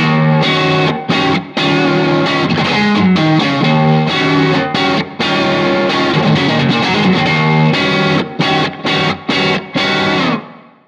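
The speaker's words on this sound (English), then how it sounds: "This might be the best sounding Strat guitar that I have" A Stratocaster electric guitar plays through effects with distortion and chorus, loud, dense chords and lines that ring continuously with a few brief stops near the end, and no talking.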